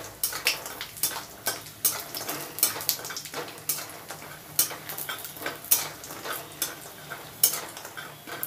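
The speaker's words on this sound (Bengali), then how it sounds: "আমি বড়িগুলো ভেজে নেব।" Lentil dumplings (bori) fry in mustard oil in a kadai, giving a steady close sizzle broken by frequent sharp scrapes and clinks of a spatula stirring against the pan.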